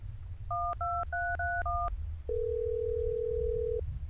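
Six quick touch-tone beeps of a phone being dialed, then a long steady electronic tone, over a low background rumble.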